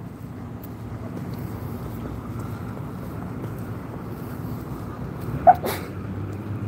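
A single short sneeze cuts through a steady, low background rumble of wind-like noise near the end, with no talking.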